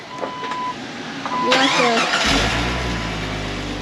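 A 1999 Jeep Wrangler engine cranks and fires up partway through, settling into a loud, steady idle that runs to the end; a voice speaks briefly before the start.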